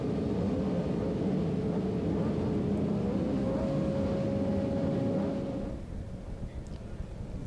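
Racing motorcycles rev together on the starting grid of the Loudon Classic road race, a loud sustained multi-engine roar with a rising tone that drops away toward the end.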